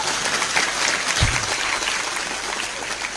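A large audience at an Islamic religious lecture breaks into sustained, loud applause, a dense steady wash of clapping that holds for the whole stretch, with one brief low thump partway through.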